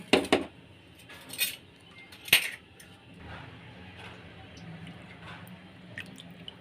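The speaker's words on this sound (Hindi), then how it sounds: "तो सबसे पहले हम इसे अच्छे तरीके से धोएंगे।" Fish pieces being washed by hand in water, with drips, splashes and a couple of sharp clinks of a metal bowl early on, then a steady low sloshing that continues quietly.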